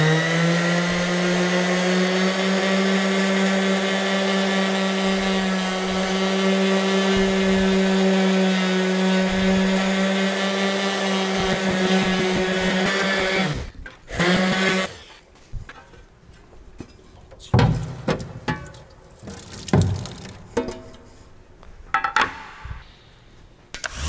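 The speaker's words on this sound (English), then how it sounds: "orbital sander." An orbital sander hums steadily with a strong tonal whine while removing machining toolmarks, then cuts off, followed by intermittent knocks and handling clatter.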